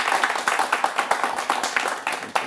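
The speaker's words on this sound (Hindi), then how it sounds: "ताली बजा सकते हैं विकेश जी के लिए" A studio audience at a televised discussion on road transport and highways claps in a quick, steady burst of sharp hand claps, close and loud, lasting a couple of seconds with no talk over it.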